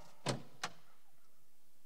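Two sharp knocks on a door in a stage comedy scene, about a third of a second apart, close and fairly quiet, followed by silence.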